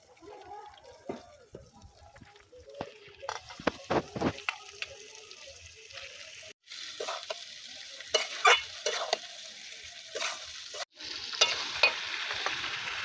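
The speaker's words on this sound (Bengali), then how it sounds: "মশলার থেকে তেল ছেড়ে দিয়েছে ধুয়ে রাখা চিকেনটা দিয়ে দেবো" Chicken drops into spiced oil in a pan and the quiet crackle jumps to a loud, steady sizzle, with frequent stirring scrapes and clatters on top.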